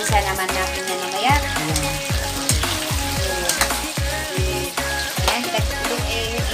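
Goat meat half-cooked in a pan sizzles and fries steadily, a continuous crackle with repeated low stirring knocks throughout, close and fairly loud with no talking.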